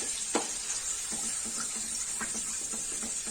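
Garlic paste frying in oil in a pan, a steady soft sizzle with a bright hiss and small irregular pops and crackles throughout.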